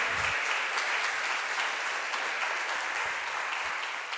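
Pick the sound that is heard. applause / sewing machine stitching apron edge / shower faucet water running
applause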